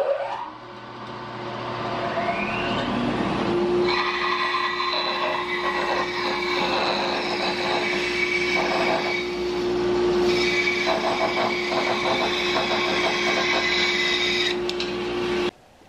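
Band saw fitted with an Olson 1/4 inch 6 TPI blade cutting through wood, a steady close machine whine with a constant motor hum and a rough, grinding cut that runs continuously for most of the span, alone without talk.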